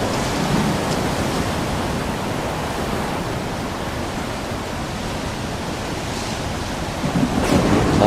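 Heavy in-game thunderstorm in S.T.A.L.K.E.R. 2: Heart of Chornobyl, with a steady dense wash of rain and wind and a low rumbling swell of thunder near the end; no one speaks.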